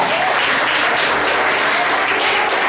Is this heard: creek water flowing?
no